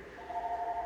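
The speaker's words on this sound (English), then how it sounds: "the phone's ringing at the back, so you may not hear the winner" A telephone rings at the back of a room during an awards announcement for a weight loss challenge, a steady electronic tone held for about a second, faint and distant against the room's murmur.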